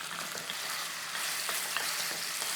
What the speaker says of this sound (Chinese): 煎一煎那个肉啊，煎一煎啊，主要是皮那边要朝下了啊